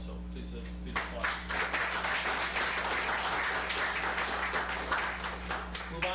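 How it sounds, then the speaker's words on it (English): An audience at a city council meeting applauds a company's 25-year milestone, sustained dense clapping under a constant low hum from the room. "So please applaud."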